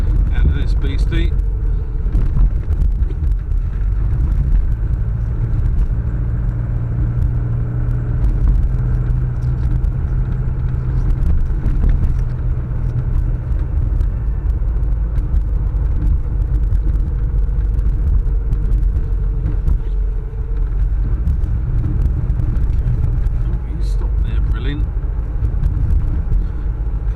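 Classic Mini Automatic with an AP Automotive gearbox cruising at about 30 mph and 2,250 RPM through Peacehaven, a steady low engine drone and road rumble heard from inside the car throughout.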